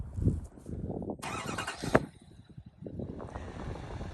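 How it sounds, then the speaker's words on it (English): A 2023 GMC Sierra 2500 HD pickup with an L5P Duramax diesel engine fires up: a short, bright burst of cranking, then a low, faint idle rumble with a single sharp click. "I'll fire it up for you guys."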